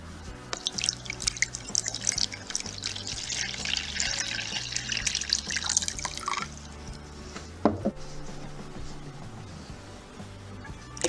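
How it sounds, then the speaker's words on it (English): Water poured into a container for a paper-strip absorption experiment, a steady splashing, dripping pour for about six seconds that then stops, with a brief clatter afterward and a low hum in the background. "I'm gonna take this water and pour it into this container"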